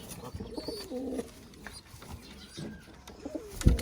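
Pigeons in a loft, with several soft coos near and far, faint chirps, and a brief bump near the end.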